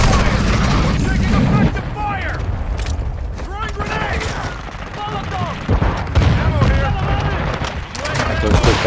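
Rapid gunfire and explosions in Call of Duty Modern Warfare 2 with an M4 assault rifle, loud dense bursts and booms running under shouted voices and game radio chatter.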